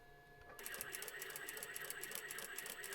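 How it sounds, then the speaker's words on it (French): Sewing machine stitching a fabric apron for a plush toy lamb, starting up after a half-second of quiet and running in a fast, steady rhythmic whir close by. "Je couds un petit peu."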